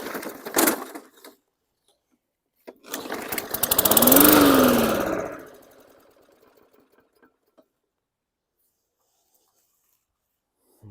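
A 2019 Hyper Tough lawn mower engine with a freshly cleaned carb and worn primer bulb is pulled over without starting: a short rattling crank, then a longer rising-and-falling cranking burst that fades out, followed by quiet handling clicks.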